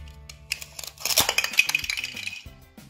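A knife cuts through a green capsicum on a plate, giving a quick run of sharp clinks and scrapes against the hard surface, close and fairly quiet, with no talking.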